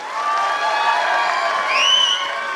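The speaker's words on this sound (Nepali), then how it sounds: "जोरदार ताली लगाउन नबिर्सनुहोला" A crowd at an awards ceremony applauds and cheers for a comedy actor, steady clapping with rising whoops and shouts that swell toward the end.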